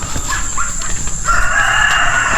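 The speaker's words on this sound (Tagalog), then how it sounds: "may mga manok tayo dito" A rooster crows on a dusty, dry farm among chickens, a drawn-out call rising over steady background noise with fowl clucking faintly.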